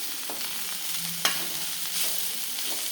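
Masala paste sautés in a pan with a steady close sizzle, light stirring scrapes and one sharp metallic tap from the spoon, with no talk.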